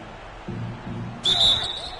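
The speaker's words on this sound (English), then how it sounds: "And there's the whistle." In NBA 2K16 basketball, a referee's whistle gives one sharp shrill blast after a couple of ball bounces, cutting over crowd murmur in an arena.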